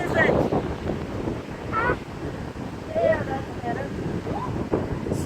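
Strong wind buffets the microphone in a constant low rumble outdoors above a market, with faint voices and distant sounds partly buried beneath the gusts.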